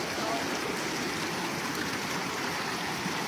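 A river stream rushing steadily as people cross it, a loud, close, continuous wash of flowing water with no breaks, and a voice faintly audible beneath.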